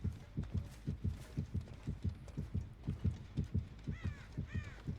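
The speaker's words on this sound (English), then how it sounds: "Right now it's only 1 heartbeat." Killer's heartbeat terror radius in the Dead by Daylight video game: a steady, loud, low double-thump pulse that repeats throughout, with faint crow caws entering near the end.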